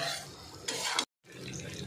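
Dried shrimp with raw mango stirred on a hot griddle pan, giving close scraping and sizzling strokes that cut off briefly into silence before the stirring resumes.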